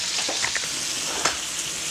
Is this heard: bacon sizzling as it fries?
yes